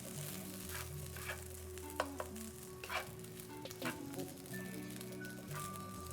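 Fried rice warming in a pan over medium-low heat, a soft, quiet sizzle with scattered clicks and scrapes from stirring; a background melody plays faintly underneath.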